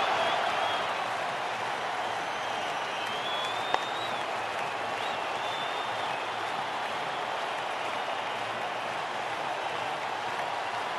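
A video-game crowd at an India vs Sri Lanka cricket match roars and applauds in a steady, dense wash of noise that holds for about eleven seconds without letting up.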